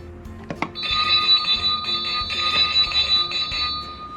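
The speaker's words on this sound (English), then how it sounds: "he rings a bell by the back door." A bell hung by a back door rings repeatedly as a dog nudges it, giving bright sustained metallic tones with a few sharp strikes near the start, clear and close, with no talking.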